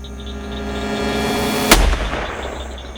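A single loud rifle gunshot fired at a leopard on safari, a sharp crack partway through followed by a short rumbling decay against a quiet outdoor background.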